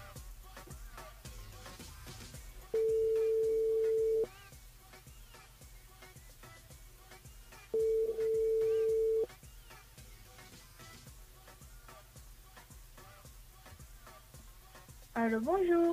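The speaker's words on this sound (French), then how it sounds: "On appelle GG. C'est parti" During a French radio call-in show, a telephone ring tone sounds as the station dials a listener: two long, steady rings separated by a pause, then the start of a third, over quiet background sound.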